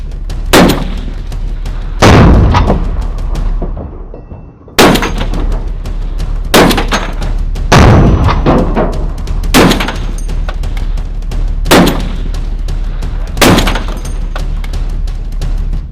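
Rifle gunshots fired point blank outdoors, a series of loud, sharp cracks about every one to two seconds, each with a brief echoing tail, heard close up with no talking between shots.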